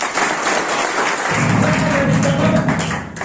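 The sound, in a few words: applause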